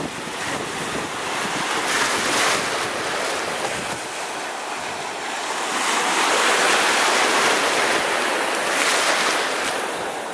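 Baltic Sea waves wash ashore at the tip of the Hel Peninsula, a continuous loud surf roar mixed with wind buffeting the microphone, swelling in the middle and easing slightly, with no speech.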